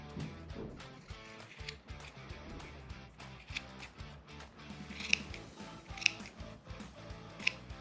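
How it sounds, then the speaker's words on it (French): Scissors snipping macramé cord fringes, a quiet steady run of small close cuts with a few sharper distinct snips near the end, no talking. "Vous pouvez appuyer le ciseau sur votre autre main si vous êtes plus à l'aise pour couper"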